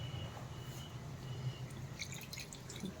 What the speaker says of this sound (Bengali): এতে একটু সামান্য জল দিব,